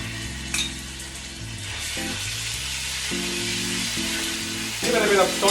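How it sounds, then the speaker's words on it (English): Ingredients sautéing in a pan for lamb biryani, a steady close frying sizzle with occasional stirring scrapes that grow louder and busier at the end, no talking over it. "Give it a bit of saute. A nice saute."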